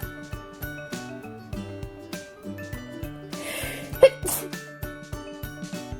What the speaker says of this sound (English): Also, I am about to sneeze.